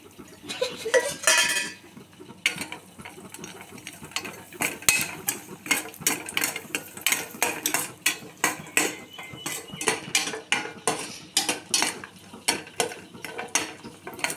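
Raisins fried in a pan for sago payasam, with rapid metallic spoon clinks and scrapes against the pan in quick, busy bursts, close and fairly loud, with no speech.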